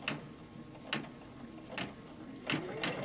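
An embroidery sewing machine stitches a mug wrap held in a hoop, giving a quiet mechanical whir broken by sharp periodic clacks about once a second, close by, with no talk.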